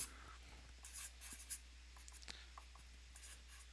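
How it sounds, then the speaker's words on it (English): Pen writing on paper during a lecture, faint scratchy strokes in short bursts over a low steady hum, close and quiet. "So I'll write that down here at the bottom"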